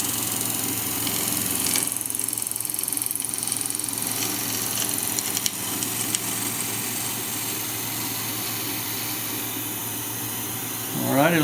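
A compressed air hose blows metal shavings off a VB36 turning machine tool, a loud continuous hiss over the machine's steady mechanical hum, ending with a short rising whine.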